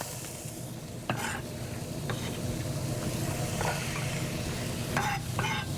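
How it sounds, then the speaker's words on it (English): Steady frying sizzle of onions in hot olive oil, continuous and close, with a few brief scraping stirs over the crackle. "sizzle, sizzle, sizzle. That's what we're always looking for."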